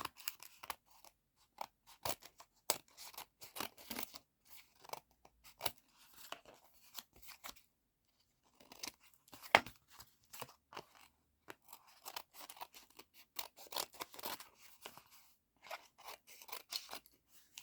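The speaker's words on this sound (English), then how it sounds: "I'm just going to cut off the excess." Scissors snip through excess paper in a long run of close, crisp cuts, some rapid and crunchy, others spaced apart with brief quiet gaps.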